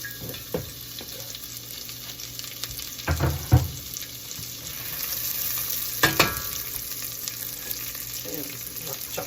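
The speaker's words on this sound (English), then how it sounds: "into our bacon grease, we are going to put rough chopped celery and onions" Rough chopped celery and onions fry in bacon grease with a steady, close sizzle, broken by a few sharp knocks and scrapes of a stirring utensil against the pan.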